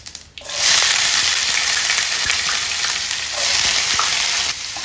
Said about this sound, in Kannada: ನಾವು ಸಾಸಿವೆ ಹಾಕೋಣ, ಜೀರಿಗೆ ಹಾಕೋಣ, ಈರುಳ್ಳಿ ತೊಗೊಂಡಿದ್ನಲ್ಲ ಈರುಳ್ಳಿ ಹಾಕ್ತಾಯಿದ್ದೀನಿ.